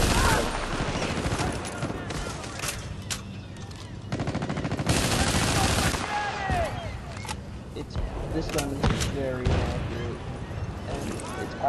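AK-47 gunfire in the video game Battlefield: Bad Company 2, with bursts of rapid shots, explosions and other battle noise overlapping at varying distances, and a player talking over the game audio.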